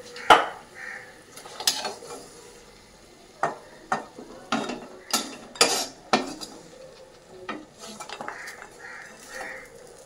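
Fried lentil dumplings lifted out of hot oil with a metal spoon, a series of sharp clinks and scrapes against the pan over a soft background sizzle.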